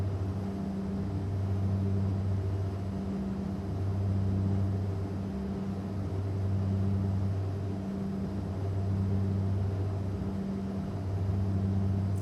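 An Aero Commander 690B turboprop's engines hum in the X-Plane 11 flight simulator during a hand-flown climb toward 26,000 feet: a loud, steady tonal drone with a slow rhythmic pulsing and no talk.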